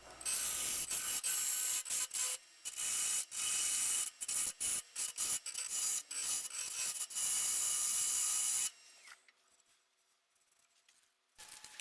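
A wood lathe turns the final shape on the first two rows of a segmented wooden barrel-of-blocks bowl, giving a loud continuous scraping and rattling cut with brief gaps, then stopping abruptly to leave faint room noise.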